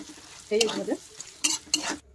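Salt and half a spoon of turmeric stirred into a pan of frying potatoes for an Odia mustard rohu fish curry, with a few short scraping strokes over a soft sizzle, close and fairly quiet.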